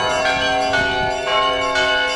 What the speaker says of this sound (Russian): этот колокольный звон – это не просто запись в колонках, это живое